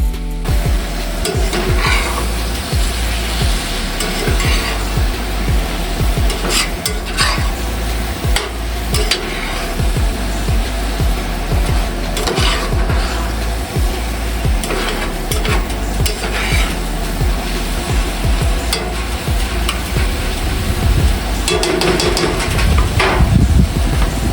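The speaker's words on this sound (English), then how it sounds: "just kind of let everything marinate together and cook that meat up" Beef heart and mushrooms sizzle steadily in a cast iron pan on a Coleman camp stove, a loud continuous frying hiss broken by repeated clanks and scrapes of a utensil.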